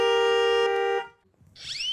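A vehicle horn blares in one sustained, loud, buzzy honk lasting about a second, then cuts off, followed by a short rising whistle-like tone and faint background noise.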